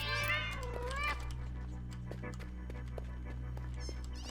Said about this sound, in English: We're now fighting cats.